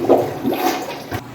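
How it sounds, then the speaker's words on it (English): A toilet flushes after being cleared with a Vileda plunger, a loud rushing swirl of water in a small bathroom that surges, then drains with a gurgle near the end, with no voices. "let's flush it again"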